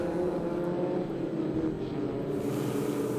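Historic Formula Ford race cars pass at a circuit during a speed festival race, their engines a continuous broadband drone that swells and shifts slightly as the pack goes by at middle distance.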